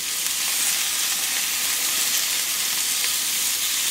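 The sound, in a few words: breaded parmesan dish frying to golden brown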